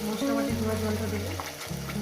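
Fish curry masala fries in a pan with fried onion and the water used to rinse the spice bowl, giving a soft, continuous sizzle under steady sustained tones in the background.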